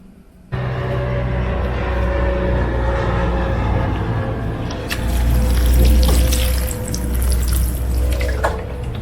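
Steady hiss of water running from a hose or tap onto garden plants, close and continuous with a brief rise in flow midway, no talk.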